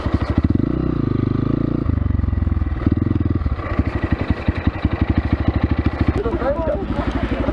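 A Kovi Lite motorcycle with a 172FMM engine runs nearby, its rapid, steady exhaust pulse thumping loudly throughout with a brief rev change midway and clattering mechanical noise.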